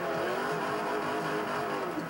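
A rear-wheel-drive car drifting in Forza 4, its engine holding a steady, loud droning rev throughout with a continuous rough hiss of tire noise beneath it.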